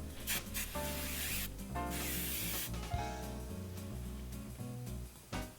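Hairspray sprays from an aerosol can in several bursts of hiss, close by and fairly loud, with music playing underneath.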